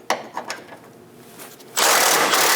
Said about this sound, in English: Remove the bolt and let the strap fall.